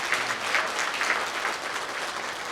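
Forum audience applauding staff at a San Bernardino policy forum: steady, dense applause from a large crowd fills the whole stretch at even loudness, with no voices over it.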